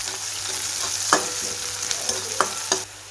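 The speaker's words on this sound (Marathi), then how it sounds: "तर जिरी मोहरीची फोडणी टाकलेली आहे, हा कांदा टाकलेला आहे, त्यानंतर हा थोडासा लसूणही टाकलेला आहे" Onion and crushed garlic frying in a cumin and mustard seed tempering, with a steady soft sizzle and several distinct stirring scrapes of a spoon against the pan, no voices.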